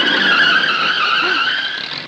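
A car brakes hard to a stop, tires squealing in one sustained, loud skid that tapers off as the vehicle halts.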